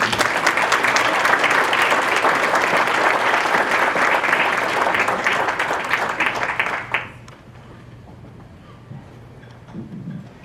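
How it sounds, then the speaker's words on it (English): An audience at the Russell County School District awards evening applauds as Superintendent Dr. Brenda Coley comes forward, with full, sustained clapping for about seven seconds, then dropping away to a quiet room with faint stray sounds. "Let's give her a hand as she comes."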